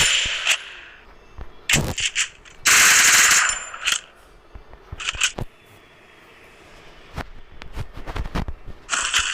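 An MP5 submachine gun fires in the Free Fire video game: loud, sharp bursts of gunfire and a long sustained volley, with metallic clicks and clanks between them.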